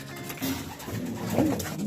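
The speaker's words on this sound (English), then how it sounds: "Just some birds playing nests still." Racing pigeons coo softly inside a loft, with several low, throaty calls overlapping against a steady murmur of bird movement.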